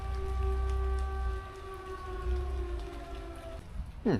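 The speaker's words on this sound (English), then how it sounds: "apparently the sirens sound on the first Wednesday of each month across France and Monaco notably" A civil defense siren in France, sounding its monthly test, wails with a long, slowly falling tone, distant and sustained, over steady rain on a tent.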